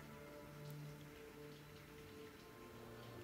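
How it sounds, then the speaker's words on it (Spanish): Steady rain patters on the ground, leaves and rooftops, a faint, continuous hiss of drops with a soft low hum running beneath it. "Me gusta el sonido de la lluvia al golpear"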